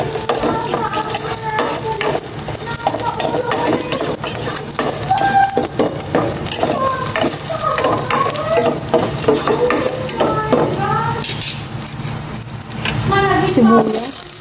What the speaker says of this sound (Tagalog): Gisa ko na tong bawang.